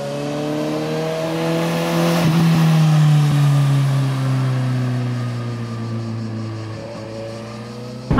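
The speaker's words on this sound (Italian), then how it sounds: "quando siamo, ad esempio, in terza, 3000 giri, e vogliamo riaprire un po' il gas, la Jugend riprende subito il via." A Suzuki Yugen race car engine pulls hard in third gear from around 3000 rpm, its loud, close tone climbing steadily as it accelerates, with a brief shift-like dip midway and a sharp burst at the very end.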